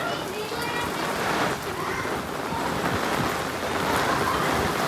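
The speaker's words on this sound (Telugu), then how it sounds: "సో ఫ్రెండ్స్ ఫుల్ వర్షం పడుతుంది చూడండి" Heavy rain falls in a dense, steady roar with a constant wash of noise, moderately loud throughout, and faint talk may sit beneath it.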